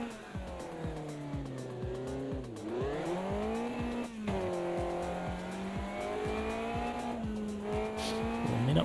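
A race car in a driving game weaves to warm its tyres: the engine drone rises and falls while the tyres squeal steadily and loudly through each swerve, with no talking.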